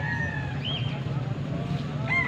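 Roosters at a cockfighting venue in Barangay Pampang, Angeles, give off short, faint crows and clucks at a distance over a constant low rumble of background noise.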